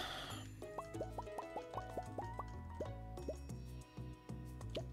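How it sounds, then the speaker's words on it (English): A watering can sprinkles crops in the video game Stardew Valley, giving a quick series of bright, evenly spaced watery plops over steady background game music. "I need to water my ancient fruit."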